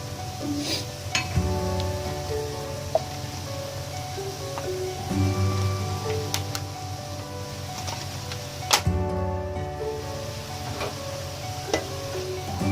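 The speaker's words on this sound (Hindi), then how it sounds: "अब हम इसमें डालते हैं चिकन।" Chicken sautés in a pan with spices while cooking Punjabi sarson ka saag, giving a soft, steady sizzle with occasional stirring clicks and utensil taps, fairly faint and close, with no talking.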